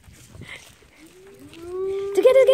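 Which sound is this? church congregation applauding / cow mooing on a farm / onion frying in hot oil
cow mooing on a farm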